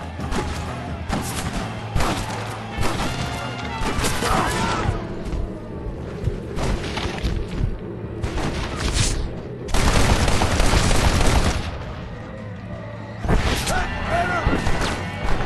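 Heavy gunfire rattles through a Red Dead Redemption shootout, with bursts of rapid shots and loud booming volleys coming in waves across the fight, while voices shout over the din.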